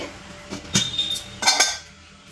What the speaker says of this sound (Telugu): గుంత పొంగనాల పెనం పెట్టాను